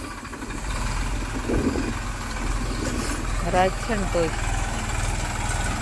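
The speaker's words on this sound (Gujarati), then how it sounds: "કારણ ટ્રેક્ટર ચાલુ છે" A tractor engine runs through the night during farm work, a steady low mechanical rumble throughout, with someone talking over it nearby.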